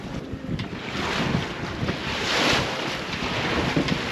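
A MacGregor sailboat under sail near the Hoover Dam in roughly 15-knot winds: a steady broadband rush of wind buffeting the microphone and water washing along the hull, with no talking.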